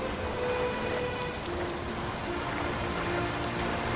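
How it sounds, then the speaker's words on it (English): Rain falls steadily in The Witcher 3 video game with restless seas, making a continuous dense hiss that stays even throughout with no voices. "And it's raining."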